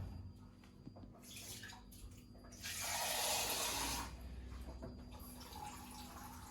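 Cold water pouring for Jamaican fried dumpling dough, a loud, close rush of water lasting about a second and a half between softer kitchen handling noises.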